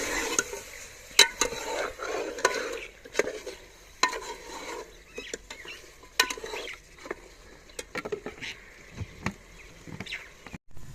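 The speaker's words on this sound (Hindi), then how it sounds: "अभी इसकी करेंगे अच्छी तरह से भुनाई।" Beef curry masala for a kata salan stirred and fried in a pan: repeated scraping strokes and soft sizzling, fairly close and uneven in rhythm, with no talk.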